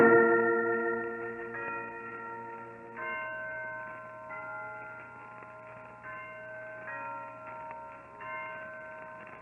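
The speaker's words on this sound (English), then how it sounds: "Yes, Watson, the historic Blandford bells. They've been ringing from that bell tower for 3 centuries." Historic Blandford church bells ringing from an old bell tower, several overlapping tolls sounding at a moderate distance with long ringing decay.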